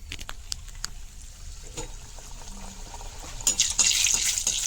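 Beetroot puchka dough rounds dropped one by one into hot oil, with a soft crackle that swells into a louder, close sizzling hiss near the end.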